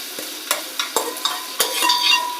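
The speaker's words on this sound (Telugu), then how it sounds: "దీంట్లోకి తర్వాత 2 స్పూన్ల అల్లం వెల్లుల్లి పేస్ట్ వేసుకొని ఆ అల్లం వెల్లుల్లి పేస్ట్ పచ్చి వాసన పోయే వరకు ఆయిల్లో బాగా వేసుకోవాలి" Ginger garlic paste fries in oil for an Ongole-style fish curry, with a soft sizzle under a handful of distinct spoon scrapes and taps against the pan, close up, without voices.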